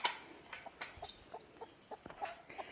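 Chickens kept inside a rabbitry give off a scatter of short, fairly faint clucks and chirps at irregular intervals over a quiet barn background.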